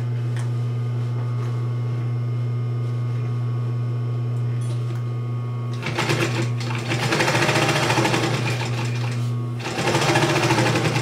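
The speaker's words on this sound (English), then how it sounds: "then we'll just do an 1/8 of an inch seam allowance just to baste it on" A sewing machine idles with a steady hum, then bursts into two loud runs of rapid stitching as it bastes fabric layers for a clutch wallet along a 1/8 inch seam.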